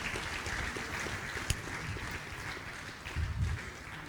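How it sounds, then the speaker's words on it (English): An audience applauding at an event, a steady wash of clapping that holds at an even level throughout, with a slight swell near the end. "Please give him another round of applause."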